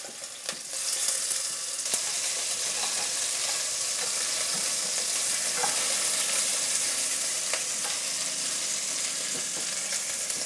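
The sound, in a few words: chicken pieces browning in a pan for Jamaican curry chicken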